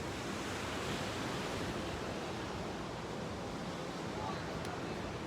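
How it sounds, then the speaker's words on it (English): Ocean surf washing onto a beach, a steady broad hiss of breaking water with some wind noise on the microphone, continuous and fairly soft. "let me show you the beach a little bit"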